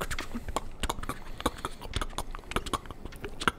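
Horse hooves clip-clopping in a fantasy tabletop role-play sound effect, a steady run of sharp, close knocks repeating about every third of a second, with faint voices underneath.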